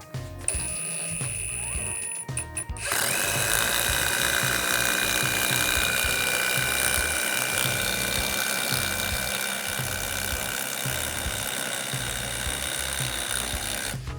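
A Dnipro-M DTD-201BC cordless impact driver fitted with a 13 mm hex socket and driving a bolt. A brief whir is followed by a long, loud, continuous rattling hammer of impacts, close up, with no talk.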